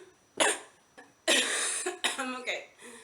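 A close, harsh coughing fit in several bursts, with brief pauses and wheezy breaths between the coughs.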